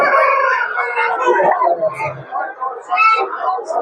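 A rooster crows at a busy poultry market in Sabunchu, alongside turkeys and hens, with loud overlapping voices and other bird calls throughout.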